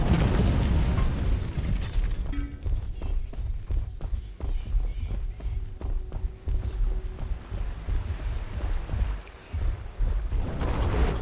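An enemy tower explodes in the Predecessor video game, a loud booming rumble followed by a run of thuds and impacts amid continuous game noise.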